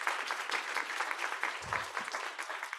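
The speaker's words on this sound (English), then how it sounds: "Let's give one last round of applause for our fabulous panel." Audience applause for a panel at the close of an NYU graduate admissions event, steady dense clapping from a crowd filling the room throughout, fairly loud and uninterrupted.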